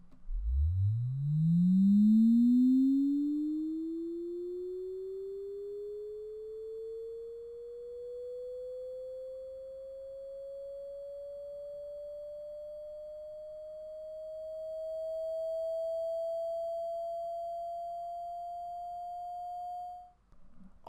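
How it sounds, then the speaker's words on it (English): One clean, steady tone, the third harmonic extracted from a distorted seismic vibrator sweep, glides upward, climbing quickly at the start and then slowly rising higher over twenty seconds, with no other sounds. "And now the third harmonic."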